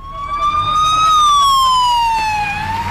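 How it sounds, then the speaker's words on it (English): An ambulance siren in Daraa, Syria wails loudly and close, one rising and falling tone sweeping slowly up and then down over a few seconds above faint street noise. "And as you see here, this is the ambulance."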